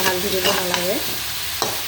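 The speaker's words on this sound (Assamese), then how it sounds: "ইয়াতে নিমখ দিয়ে ভাজিছোঁ" Drone greens frying with salt in a pan, a steady close sizzle under a brief spoken remark, with a spatula scraping the pan now and then.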